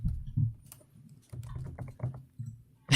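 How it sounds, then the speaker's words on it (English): Fast, irregular typing on a computer keyboard during a gaming podcast recording, close and fairly quiet, with clusters of quick key taps and short pauses between bursts. "is frantically typing"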